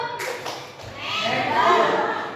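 A group claps in a call-and-response rhythm game during a positive discipline culture session, with a few sharp claps near the start and then a leader's voice talking over a blurred burst of hand claps.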